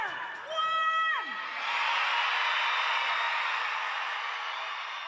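A rising whoop opens, then a basketball arena crowd at a WNBL women's game between Sydney Flames and Adelaide Lightning breaks into loud, sustained cheering and roaring that holds to the end.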